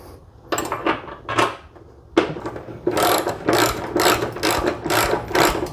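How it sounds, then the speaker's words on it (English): Ratchet re-bolting a snorkel hinge on a Suzuki Jimny, several bursts of quick rapid clicking, close and fairly loud, with short pauses between strokes. "So once you've positioned it, you can just re-bolt again"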